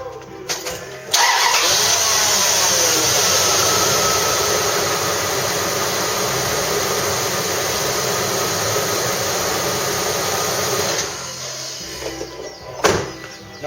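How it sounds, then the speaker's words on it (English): A Dodge Durango engine cranks and fires up after a throttle position sensor replacement, then settles into a steady, loud idle for about ten seconds before cutting out, with a few brief clunks near the end. "I'll tighten them up after I start it."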